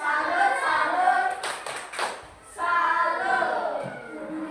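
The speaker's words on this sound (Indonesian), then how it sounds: "Tepuk salut untuk kita semua." A primary school class performs a rhythmic clapping chant together, bursts of crisp handclaps framing children's voices chanting in unison, loud and close.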